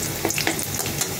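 Garlic frying in a pan before red amaranth leaves are added, giving a dense close sizzle with quick scraping stirs.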